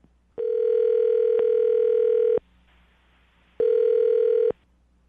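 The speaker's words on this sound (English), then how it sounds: "I'm going to dial the phone number right now, get her on the phone" Telephone dial tone sounds as a steady loud tone for about two seconds, breaks off, then returns for another second, with a brief quiet gap between the two stretches.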